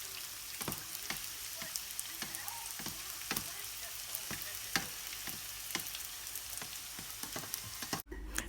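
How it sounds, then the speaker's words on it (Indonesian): Batagor dumplings frying in hot oil: a continuous soft sizzle with scattered crackles and small pops at irregular intervals, fairly quiet and steady, ending with a sharp clunk. "kita bisa masukkan ke dalam minyak panas"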